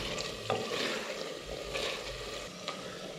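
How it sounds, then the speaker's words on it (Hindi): Palak gosht cooked with lassi is browned in a pot, with a low, close sizzle broken by a few sharp spoon scrapes and clinks against the metal, and no one speaking. "अब यहाँ पे भून लेंगे जिस तरह दही डाल के भूनते हैं।"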